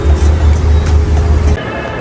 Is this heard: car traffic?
yes